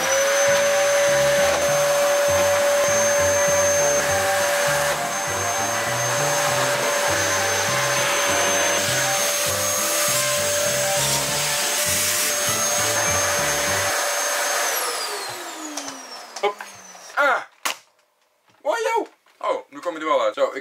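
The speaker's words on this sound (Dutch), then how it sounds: "En dan is het nu tijd voor het grote geschut. De stofzuiger." A household vacuum cleaner runs loudly and steadily with a high whine and dense broadband roar, then spins down with a falling pitch before fading out.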